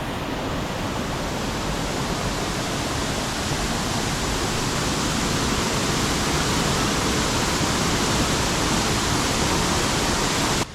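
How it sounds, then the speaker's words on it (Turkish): Rushing water pours over the top of Kurşunlu Waterfall, a loud, steady broadband roar that holds unbroken and close throughout with no voices. "Şimdi şelalenin üstündeyiz."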